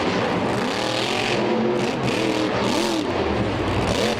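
The Grave Digger monster truck's engine roars loudly at a freestyle monster truck event in Philadelphia, revving and surging in waves over a constant rumble, with no voices.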